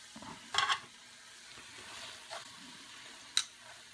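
Pork chops settling into a pan of apples and onions over medium heat give a soft, close sizzle with a few brief clinks and scrapes against the pan, and no voices.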